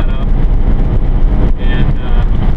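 1970 VW Beetle driving, its air-cooled engine and road noise forming a loud, steady rumble with wind buffeting, close and continuous throughout.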